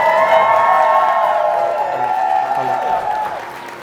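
Guests at a wedding ceremony in Austin, Texas, applauding in a loud, continuous round of clapping mixed with sustained musical tones, fading off toward the end.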